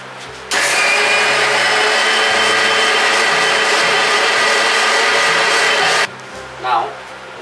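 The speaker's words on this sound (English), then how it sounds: "it's time to grind this, and we'll add a bit this methi, and now I'll grind this up" A wet grinder runs on soaked idli batter with methi seeds added, giving a loud, steady whirring roar that starts abruptly, holds for about five seconds and then cuts off, followed by a brief voice.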